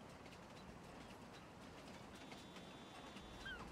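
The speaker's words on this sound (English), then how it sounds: "Oh, train coming just in time" A train rolls past in the farming video game Farming Simulator 19, a faint, steady rumble with light clickety-clack and a thin high squeal near the end, distant and without talk.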